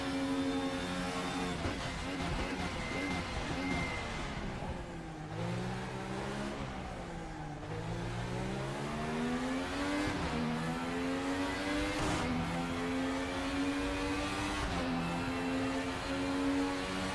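A race car engine in the RaceRoom racing game drones loudly and continuously, its pitch climbing through gears with repeated upshift dips, heard alone and close.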